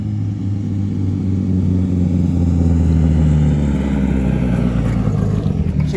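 A KA-T car engine with a popped boost coupler on the hot side, revving loudly in a deep, steady, throaty rumble with a rough, lumpy texture close by, no voices.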